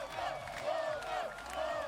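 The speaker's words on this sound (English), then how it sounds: "The crowd, of course, giving him his praise." Crowd at a Tekken 8 fighting-game tournament cheering a first-place win, a dense roar of voices and whoops swelling and dipping throughout, with one voice rising above the rest.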